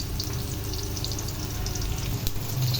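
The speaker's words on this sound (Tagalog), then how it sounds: "hahayaan ko lang muna siya dyan hanggang ma-fry at mag-golden brown" Talakitok fish and ginger fry in hot oil, giving a steady close-up sizzle with bubbling crackles that runs continuously and evenly.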